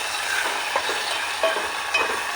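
Soaked chana dal (split Bengal gram) tipped into hot oil tempering for a gongura curry, giving a steady close sizzle with faint stirring scrapes and a few light clicks.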